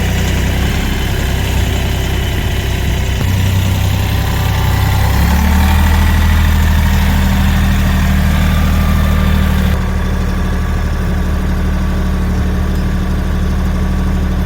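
A heavy tractor engine idles steadily and loudly throughout, a constant low rumble with a slight shift in pitch partway through.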